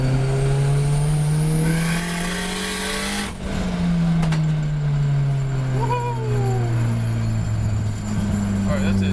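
A car's engine with a Tomei exhaust and wastegate revs hard and loud, its deep droning note rising and falling through the throttle across the whole stretch, with a sharp break midway and faint squeal-like tones near the end.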